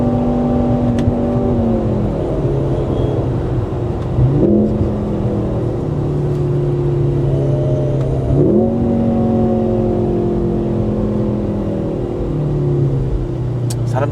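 Mercedes-AMG car engine heard from the passenger seat during a ride, loud and close, revving up repeatedly with rising pitch and dropping at each gear shift, about three cycles in a steady rhythm.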